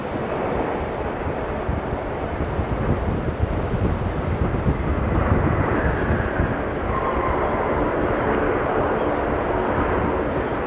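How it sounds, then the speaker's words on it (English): A FedEx Boeing 777 passes near Sydney airport as a broad, steady jet roar lasting several seconds, with wind buffeting the microphone throughout. "this is a FedEx 777"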